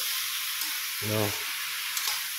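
Drumstick chorchori with mustard sizzles gently in a pan over a low flame. The soft, steady hiss continues throughout, broken by a brief low hum midway.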